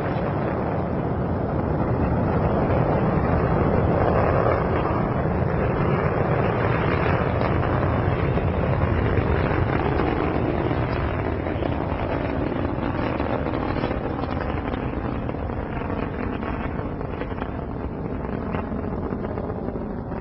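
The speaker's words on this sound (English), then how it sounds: "Liftoff of the Soyuz rocket transporting Jeff Williams, Pavel Vinogradov, and Marcos Pontes to their microgravity home in space." A Soyuz rocket lifts off carrying a crew to the International Space Station, a sustained, dense roar heard from a distance with a wind-buffeted rumble that holds steady throughout, no voices over it.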